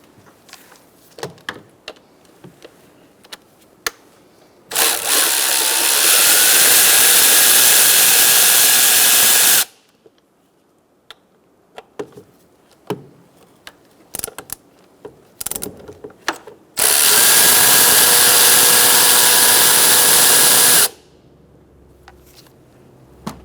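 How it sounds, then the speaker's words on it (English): A ratcheting 10 mm socket wrench removes ignition coil bolts on a 2005-2010 Chrysler 300 with the 5.7 L engine, giving two sustained, loud, close bursts of rapid ratchet clicking, with scattered small metallic taps and clicks between them. "we're going to take out these 2 bolts with a 10 millimeter socket"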